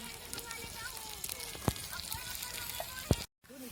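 Besan dhirde, a gram-flour pancake, frying in oil in a pan, giving a steady soft sizzle and crackle with a couple of sharp pops, continuous and close, then a brief cut to silence near the end.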